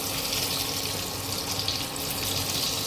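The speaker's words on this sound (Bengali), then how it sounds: "গরম হয়ে গেছে, আমি এবার শুকনো লঙ্কা ফোড়ন দেবো" Dried red chillies sizzle in hot oil for tempering a vegetable dal, giving a loud, steady, close frying hiss that holds evenly without a break.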